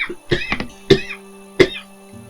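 A person coughing several times in short, sharp bursts with pauses between them, close and fairly loud against near silence.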